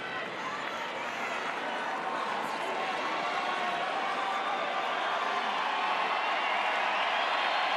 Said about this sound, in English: the crowd now really coming alive